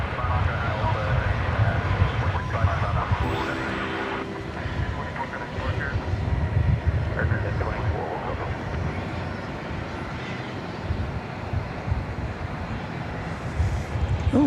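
An airliner arriving from Madrid rolls in at DFW Airport, its jet engines producing a broad, sustained roar throughout while someone talks over it.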